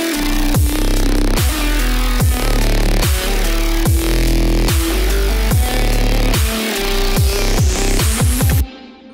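A full band mix with drums and bass driving a steady rhythm, a guitar part woven through it, loud and continuous before cutting off near the end.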